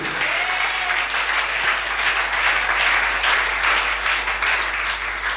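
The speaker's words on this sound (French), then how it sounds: "give the Lord a big clap" A church congregation claps and applauds together in a loud, dense, sustained roar of hands that lasts throughout, with no spoken words over it.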